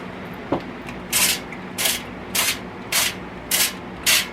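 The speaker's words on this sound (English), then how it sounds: "I'm going to spray oil in this basket." Six short hissing bursts of cooking oil spray into an air fryer basket at a steady rhythm, each about a third of a second, close by, with a brief tap before the first.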